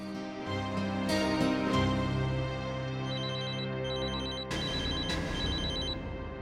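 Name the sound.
telephone ringing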